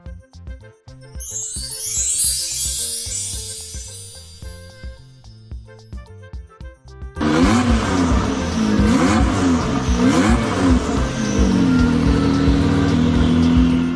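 A magical sparkling shimmer sweeps upward, then a car engine bursts in and revs loudly in repeated surges before settling into a steady drone, as a bicycle turns into a car.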